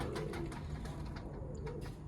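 Pedigree pigeons in a fancier's loft coo softly and repeatedly, close by against a steady low background, with soft overlapping calls throughout.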